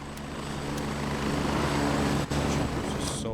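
A military helicopter in the video game Gray Zone Warfare flies close and loud, a steady rotor and engine roar holding for a few seconds with a brief dip and some faint clicks near the end, with no talking.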